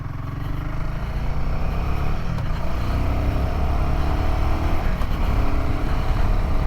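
A 2024 Royal Enfield Himalayan 450 motorcycle engine hums steadily from the rider's onboard position in normal riding mode, a loud, continuous drone mixed with road and wind noise, holding a fairly even level throughout without clear rev spikes.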